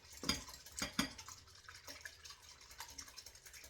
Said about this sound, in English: whisk, we're going to just whip that together